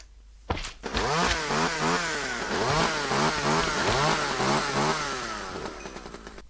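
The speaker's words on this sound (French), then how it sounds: "une tronçonneuse ça one shot" A video game chainsaw roars to life after a brief start, its engine revving up and down in rapid repeated bursts, loud and close throughout.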